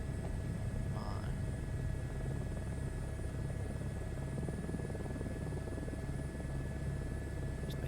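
A turbine helicopter in Microsoft Flight Simulator 2024 hovers in toward a helipad, its engine and rotor holding a steady, even drone for the whole stretch.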